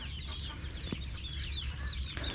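Chickens cluck and chatter in the background on a small farm where chickens and ducks are kept together, with a few higher bird calls scattered over a steady farmyard hum.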